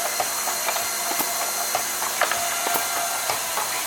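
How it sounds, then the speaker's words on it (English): A TGM Model B 620 tube filler machine running, its diving nozzle and two pistons producing a steady mechanical clatter with repeated sharp clicks and clanks at a close, even level, no talk. "on the back side of the machine here, you can see the diving nozzle operating"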